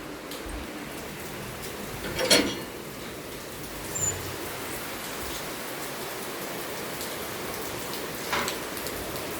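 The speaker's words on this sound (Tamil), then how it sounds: "அதுக்குள்ளே மழை வருது, வெளியே பார்க்கலாமா?" Steady rain falls outside, a continuous even hiss with a few louder drops or knocks standing out now and then, heard alone without speech.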